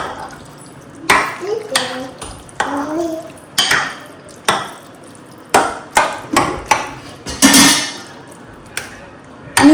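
A spoon mixes curd in a bowl for curd rice, tapping and clinking sharply against the side in irregular strokes. A voice talks softly in between.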